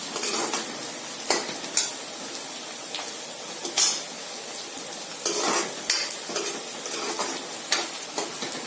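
Onion and garlic sizzle steadily in a pan while a utensil stirs and scrapes against the metal in a string of sharp, close clinks, with no one talking.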